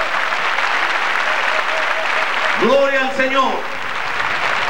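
A large church congregation at a 1998 evangelistic campaign in Santiago, Chile applauds loudly and steadily, a dense wash of clapping throughout, with a voice calling out briefly over it partway through.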